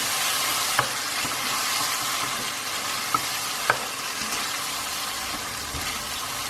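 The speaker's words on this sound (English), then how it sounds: "So mix that through for about 2 to 3 minutes. Let that tomato puree cook through nicely." Tomato puree sizzles steadily in hot oil while being stirred into a boneless chicken curry, a constant bright frying hiss with a few sharp spoon taps against the pan.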